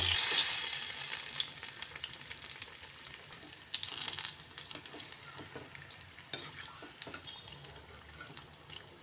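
Cauliflower bajji fritters deep-frying in hot oil give a steady, close sizzling hiss that starts loud and gradually softens, dotted with small crackles and pops, with no voices.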